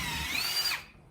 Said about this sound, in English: turn on your drill, and then push as far as it'll go